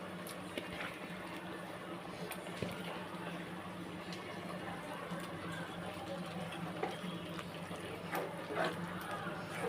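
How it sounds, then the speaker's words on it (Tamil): Prawns are washed by hand in salted water in a home kitchen, giving quiet, continuous sloshing and trickling close by, with small splashes scattered throughout. "நல்லா உப்பு போட்டு ஒரு அஞ்சாறு தடவை வாஷ் பண்ணணும் ப்ரானை"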